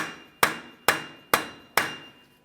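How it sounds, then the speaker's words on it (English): A hammer drives a punch against the axle of a 2007-2013 Acura MDX to free it from the rear wheel bearing hub, giving four sharp metallic strikes at an even pace, each ringing briefly before decaying. "We'll use a hammer and punch directly in the center of the axle to break it free from the wheel bearing hub."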